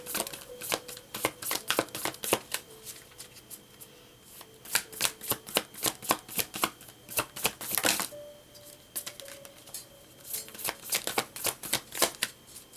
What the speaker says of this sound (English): they're brand new, so they kind of hard to shuffle. So let me loosen them up again